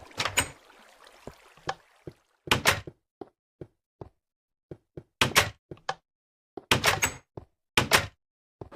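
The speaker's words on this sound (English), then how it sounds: "we heard the door open again" Door opening and shutting inside a haunted video game, heard as a run of sharp wooden knocks and thuds, several loud clustered slams broken by quieter single taps, with no talking.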